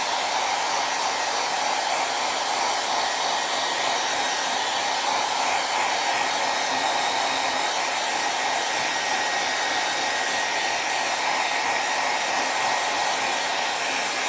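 A hair dryer blows steadily and loudly at close range for the whole stretch, drying a freshly worked vase in a home craft setting, with a constant even whoosh and no talk.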